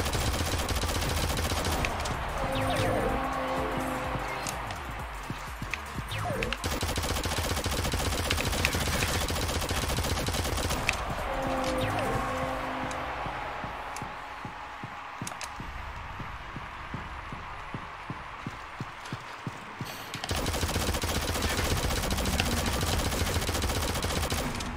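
Machine-gun fire in the Shadowgun Legends video game, long rapid bursts of automatic gunfire over steady game background noise, with a brief drop in the middle before the dense firing resumes.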